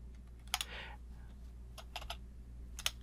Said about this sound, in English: I'm going to type in curve here.